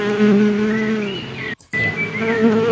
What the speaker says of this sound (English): Play sound honeybee under done.